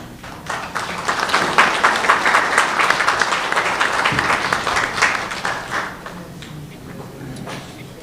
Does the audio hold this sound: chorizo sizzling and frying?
no